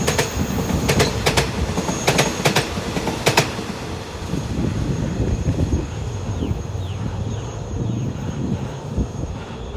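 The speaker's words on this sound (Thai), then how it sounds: "4516 นะครับฮิตาชิ นะครับ ลายธงชาติทำขบวน ด่วนพิเศษทักษิณารัฐที่ 31 นะครับ" Hitachi locomotive 4516 in national-flag livery hauls special express train 31 past a level crossing near a station, its wheels clattering and rumbling steadily, with sharp clicks early on and a passing roar that fades toward the end.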